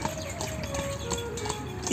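Horse hooves clip-clop at a steady trotting rhythm as a horse-drawn carriage gives rides around a roundabout in Oman, fairly close and continuous over a low background hum.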